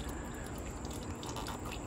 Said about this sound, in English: in order to get more water dripping on the rock wool